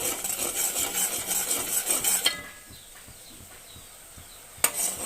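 A spoon works through a jaggery and poha chikki mixture in a pan, with scraping and stirring noise filling the first half, then quieter soft clinks and a brief bright clatter near the end.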